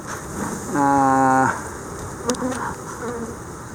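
Honey bees buzz around an opened hive box, one loud close pass of a single bee droning for about a second, then a low swarm hum with a faint voice underneath.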